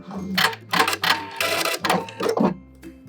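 A sewing machine backstitches the seam of a stretchy knit neck gaiter in short, loud, close bursts of rapid mechanical stitching separated by brief pauses, with a low motor hum under each run.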